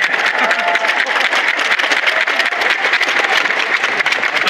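Dense, loud crowd applause filling a baseball stadium at a player's number retirement ceremony, continuous clapping from the cheering section throughout.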